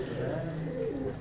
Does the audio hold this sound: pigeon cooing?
yes